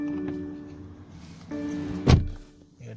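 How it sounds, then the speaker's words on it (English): Inside a quiet 2021 BMW X4 M Package cabin, a door lock is pulled, giving a single close mechanical thunk that follows a faint motorised hum. "Listen to the sound after I pull that lock."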